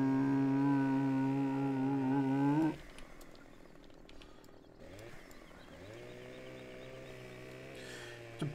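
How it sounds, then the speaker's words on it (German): Chainsaw in the farming game Landwirtschafts-Simulator 17, a loud buzzing motor running steadily, then cutting off abruptly and idling low before revving up again more quietly. "Kettensäge!"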